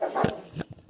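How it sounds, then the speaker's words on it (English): A dog gives a single short, close bark, followed by a softer yip. "That was my dog."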